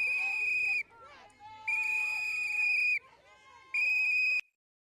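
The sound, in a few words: protesters whistling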